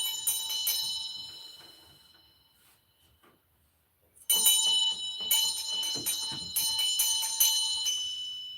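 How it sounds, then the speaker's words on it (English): A handheld bell rung to clear energy during a live reading, a few bright ringing strikes that decay away, then after a pause a second run of repeated rings, fairly close and clear with no talk over it. "Let's ring a bell and clear the energy here"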